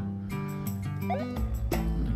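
Chickens in the video game Evoland 2 cluck and gobble in short squawks over looping tonal game music, several quick calls in a row.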